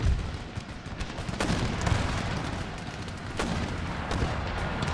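A covering gunfire volley in the video game Empire Total War, heard as a dense, continuous crackle of musket shots and booming artillery that stays loud throughout, with sharper bursts standing out from the din.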